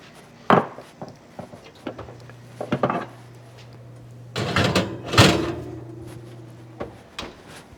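An oven door clunks and a dish is slid back in as a sweet potato casserole returns to bake, giving several wooden and metallic knocks and thuds, with a louder scraping clatter near the end over a steady low oven hum.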